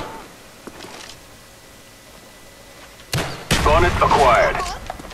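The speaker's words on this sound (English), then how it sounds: "And everyone's gonna use grenade launcher." A grenade launcher fires in Call of Duty: Black Ops: after a quiet stretch, a loud explosive blast bursts in near the end and rumbles on while someone talks over it.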